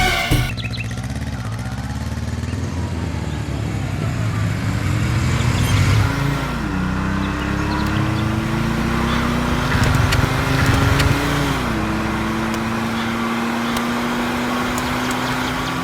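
A vehicle engine idles and then pulls away, rising in pitch through gear changes before settling, a steady motor drone heard up close without talking.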